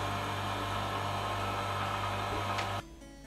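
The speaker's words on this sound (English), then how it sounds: "put it into a vacuum chamber and suck out all of the air from the rubber" A vacuum chamber pump runs steadily while degassing rubber, a loud constant motorized hum and hiss that cuts off abruptly near the end, leaving quiet.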